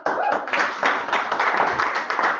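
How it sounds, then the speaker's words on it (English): Audience applause, a burst of many hands clapping steadily for a couple of seconds, close and fairly loud, fading slightly toward the end. "Yeah. Another clap."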